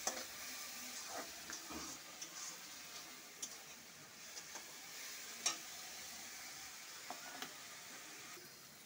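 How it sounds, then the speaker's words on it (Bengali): Ginger, garlic and chilli paste fries in a wok, with a faint, soft sizzle and a few sharp stirring clicks and taps spaced through it, quiet and close. "এটা আমি একটু কষাবো পেস্টটা, যাতে পেঁয়াজ রসুনের গন্ধটা না থাকে"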